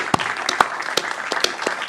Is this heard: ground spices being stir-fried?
no